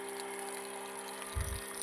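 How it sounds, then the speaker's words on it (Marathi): A liquid pump feeding drip irrigation in a sweet lime orchard runs with a steady, even motor hum, and a brief low thump comes near the end. "आता यांनी पंप सुरू केला आहे आणि ड्रीपमध्ये हा पंप लावत आहे"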